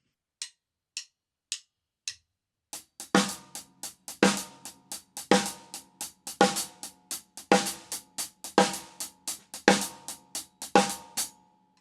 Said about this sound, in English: We have snare on 2 and 4 with our left hand, and the E's and the U's on the hi-hat with our right hand